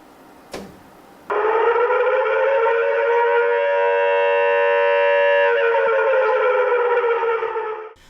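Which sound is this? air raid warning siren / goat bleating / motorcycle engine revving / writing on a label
air raid warning siren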